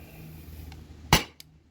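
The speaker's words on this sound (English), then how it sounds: "last magazine on the S2. This is shot 11 through 15." A Salt Supply S2 CO2 airsoft pistol on a 12-gram cartridge fires over a chronograph as its gas runs low. One sharp, loud crack stands out, followed by a much fainter click in a quiet room.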